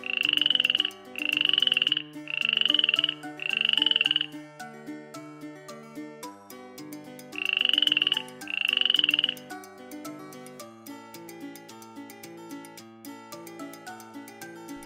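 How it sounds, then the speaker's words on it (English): A toy frog gives four rhythmic electronic croaks, then two more after a pause, loud over a bright, plinking children's tune. "Frog"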